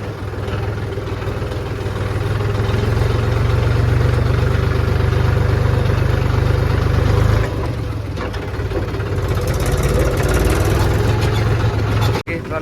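A farm machine engine runs during a wheat harvest in a field, giving a loud, steady, low droning rumble that holds without a break for the whole stretch and dips briefly near the end.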